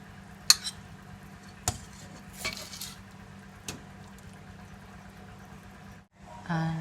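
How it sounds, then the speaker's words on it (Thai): A ladle scoops Chinese-style stewed eggs with pork belly and shiitake mushrooms from a pot into a serving dish, giving a few sharp, scattered metal clinks and soft scraping, quiet and close. "แล้วก็ตักใส่ภาชนะนะคะ"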